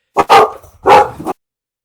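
A dog gives two short, loud barks close to the microphone, separated by a brief pause, during a live-stream podcast with no talk over them.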